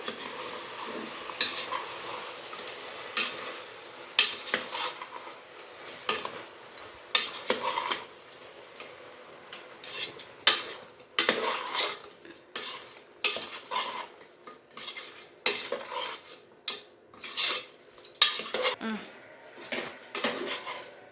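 Mutton head meat and onions frying in a pot for head-meat curry, with a spoon stirring in repeated scraping clanks against the metal over a steady sizzle, close and fairly loud with no talk.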